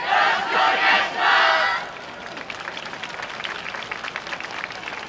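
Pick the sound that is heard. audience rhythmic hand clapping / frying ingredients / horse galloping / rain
audience rhythmic hand clapping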